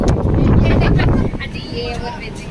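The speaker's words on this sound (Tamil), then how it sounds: "பெரிய காற்று ஒன்று" Strong wind buffets the microphone at a strawberry farm, a loud rumbling rush that eases after about a second and a half, with voices faintly audible underneath.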